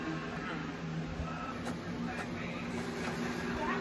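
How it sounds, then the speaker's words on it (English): An Epson WorkForce WF25 printer runs steadily while printing onto sticker paper, a continuous mechanical whir with repeating feed rhythm, close and fairly loud throughout with no talk over it. "I'm sending to the printer, and remember, you print it out on the sticker paper."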